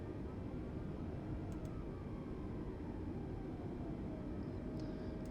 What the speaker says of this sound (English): we will get this landing plane parked up and shut down